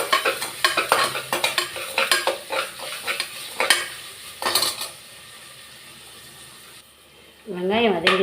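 Onions stirred and sautéed in a pan for tomato biryani: a run of scraping, clinking spoon strokes over a steady sizzle, then a stretch of frying alone, with a voice rising near the end.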